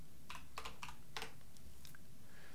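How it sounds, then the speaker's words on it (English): Camera shutter click sound effects from a free sound effects pack, several crisp short clicks in quick irregular succession, fairly quiet and isolated. "You get these free camera clicks."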